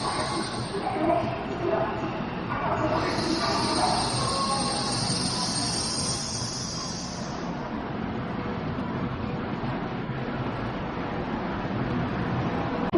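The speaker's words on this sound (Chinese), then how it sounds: "12点42分，香港西九龙至广州东 G6556次 CR300AF 蓝暖南停靠北站。" A CR300AF high-speed train, service G6556, pulls into Shenzhen North station, with a steady low rumble of rolling wagons and a high brake squeal that rises and then fades as it slows.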